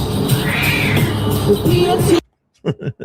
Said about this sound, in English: Yeah, you heard a cat.